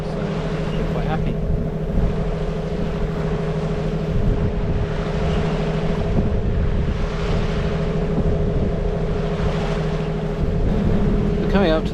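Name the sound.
sailboat engine running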